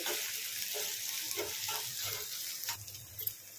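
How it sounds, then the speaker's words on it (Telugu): Chopped onion frying in a pan with a dried red chilli and two green chillies, a steady close sizzle with faint stirring scrapes throughout, no voices. "ఉల్లిపాయను అయితే ఫ్రై చేసుకోండి."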